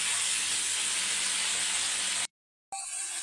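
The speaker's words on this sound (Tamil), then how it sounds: "இப்போ இது வதங்கட்டும்." Chopped onions and four tomatoes sauté in a hot pan for a Tamil home-style dish. A steady, dense sizzling hiss fills the scene, then cuts out briefly before resuming near the end.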